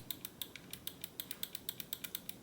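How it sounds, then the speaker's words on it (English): A quick series of small, sharp clicks repeated in an even rhythm, close and quiet, a Pulsar Xlite V4 gaming mouse's middle button being pressed over and over. "this is one of the best middle clicks of all time"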